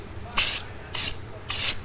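A spray gun lays paint on a Chevy K10/C10 squarebody truck bed in three close, bright hissing bursts of about half a second each, with short quiet gaps between them.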